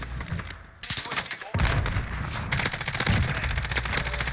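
Player weapon fire in Call of Duty: Modern Warfare, likely from a RAM-7 assault rifle, sounding as rapid repeated shots in close, loud bursts, with a voice speaking faintly underneath.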